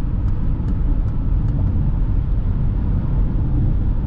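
Steady broadband road and engine rumble from a Peugeot e-208 Allure 136 HP electric car accelerating from 100 to 130 km/h, heard from inside the cabin, continuous and fairly loud with no talk.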